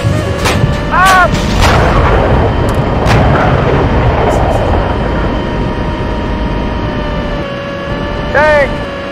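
A tank's main gun fires during a defence exercise, with heavy booming blasts under constant loud engine rumble and hum, and brief whistling squeals near the start and end.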